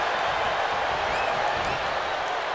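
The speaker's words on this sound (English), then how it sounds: "What a raucous crowd here tonight." Raucous crowd roaring and cheering at a televised wrestling arena event, a dense, steady wall of noise filling the whole stretch with faint whistles rising above it.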